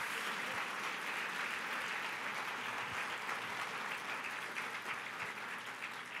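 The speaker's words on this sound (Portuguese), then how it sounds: "Dê para Jesus uma forte salva de palmas" A church congregation applauds together in a steady, dense round of clapping that holds at an even level throughout, a broad wash of many hands filling the room.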